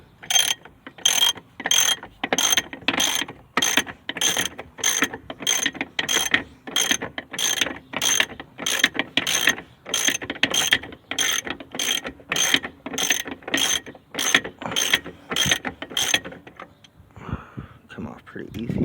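Ratchet wrench removing the 9/16 bolts holding a brake master cylinder to the booster on a truck, rapid regular clicking strokes close up for about sixteen seconds, then a brief pause and a few softer sounds.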